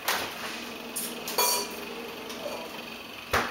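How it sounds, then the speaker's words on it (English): A chilled metal bowl and whisk pulled from a freezer clink and clatter in a few short, bright knocks, near and alone, with no talking. "we're going to go ahead and take out that bowl and whisk that we put in the freezer"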